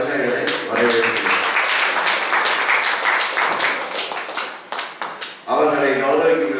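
Clapping fills a church festival for Saint Sebastian as guests are welcomed, a sustained burst of applause between stretches of amplified voice, with the clapping thinning into separate claps before the voice returns.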